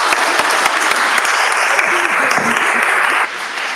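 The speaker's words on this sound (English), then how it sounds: "one more real big round of applause for Ilan Pappe" A lecture audience in Detroit gives a loud, sustained round of applause for the historian Ilan Pappe, dense clapping that drops slightly in level just before the end.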